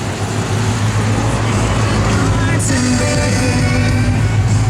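A 1969 Chevrolet Camaro RS pro touring car idles with a steady, loud low rumble from its exhaust, continuous and close throughout with no pauses.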